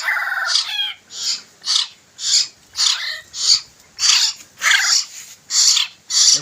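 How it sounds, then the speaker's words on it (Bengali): Young hill myna chicks, about two months old and of the long type, call out in a repeated series of harsh, loud squawks, roughly one every half second, close by with no talking. "এগুলো লং টাইপের, কাঠ ময়না।"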